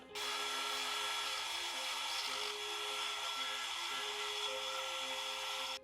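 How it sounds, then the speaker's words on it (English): A power drill fitted with a rose bit bores into wood, a steady close whine with a constant hum running for several seconds alone, the pitch shifting slightly as the bit cuts, before stopping abruptly. "I'm using a rose drill bit."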